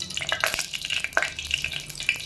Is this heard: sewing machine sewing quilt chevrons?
no